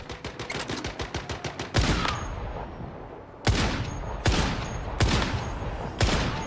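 Gunfire in the survival shooter Once Human: a rapid burst of automatic shots, then several loud, heavy single shots spaced about a second apart, each with a long echoing tail, close and dominant with no talking.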